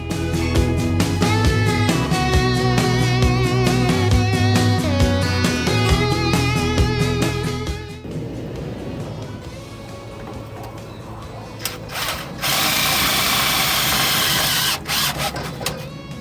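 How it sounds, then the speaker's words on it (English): A power drill bores a hole through a hard 2017 Ford Super Duty truck frame, heard as a loud sustained whine with a sharp break near the end, after steady music-like tonal noise earlier. "I'm going to go ahead and drill it because the frame's kind of hard"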